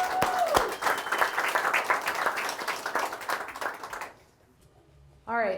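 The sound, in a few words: audience applause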